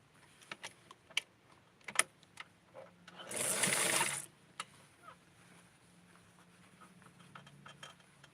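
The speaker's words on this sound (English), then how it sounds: "So I'm going to sew this from the inside to show you." A sewing machine runs in one short burst of about a second while doll clothes are stitched from the inside, surrounded by light clicks and handling taps in a quiet room.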